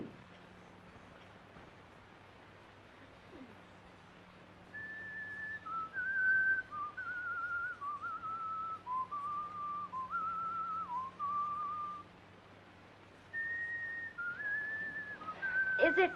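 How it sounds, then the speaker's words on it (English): A man whistles an English tune, a steady melodic line of clear pitched notes in two phrases separated by a short pause, fairly close and alone over a low steady hum. "That tune you are whistling, sir, it is an English tune, isn't it?"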